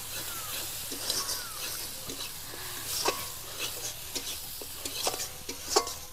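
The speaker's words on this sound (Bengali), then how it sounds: "এবার আমি দিয়ে দেবো সর্ষে বাটা দিয়ে ভালোভাবে মশলার সাথে মিশিয়ে দেবো।" Mustard paste being stirred into frying spices for a rui fish curry, a soft continuous sizzle with scraping stirs and light clicks of the spoon against the pan, quiet and close.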